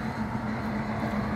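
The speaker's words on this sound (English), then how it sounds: "And there is the green train to Ljubljana." An old green diesel train running from Pula to Ljubljana, heard as a steady, close engine rumble with a strong low hum and no voices over it.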